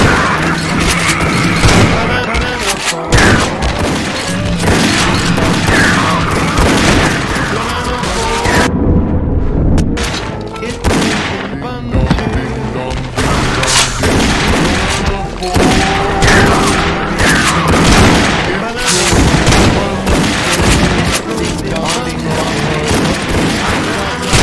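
Shotguns blast repeatedly in the Sven Co-op Ragemap game, a loud dense barrage of overlapping booms and crashes, with voices shouting over the gunfire.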